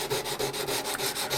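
Hand sanding a wooden model ship with 180 grit sandpaper, producing a close, steady rhythmic rasp of quick back-and-forth strokes, about six passes, with no voices.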